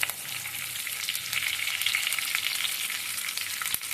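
Peanuts and curry leaves sizzle and crackle in hot oil, a bright, continuous frying hiss with scattered pops and a few stirring scrapes, close and steady with no talk.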